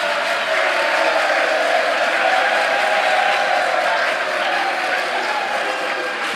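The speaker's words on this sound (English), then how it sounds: "They have done well. Clap for them." An audience at a school quiz contest breaks into sustained, even applause for a senior high school team, a dense wash of clapping with a few faint cheers throughout.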